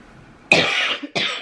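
Two harsh coughs from a person with a cold, the first long and rasping with a brief catch near its end, the second short and close behind, loud and close with no other sound.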